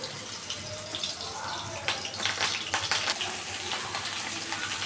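Pointed gourd (potol) pieces fry in hot oil in a wok, giving a soft, steady hiss that swells into a brief burst of crackling midway.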